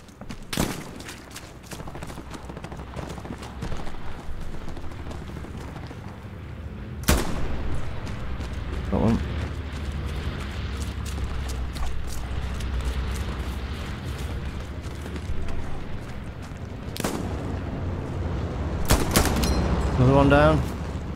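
Distant and near gunfire in the World War II shooter Hell Let Loose, with sharp single shots and crackling volleys over a low rumbling battlefield bed while players talk intermittently.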